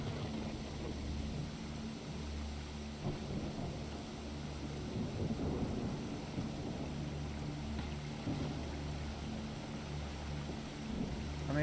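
Stormy weather in the video game Terra Foliata, a steady low rumble of rain and distant thunder rolling on throughout, faint and unbroken, with no talking.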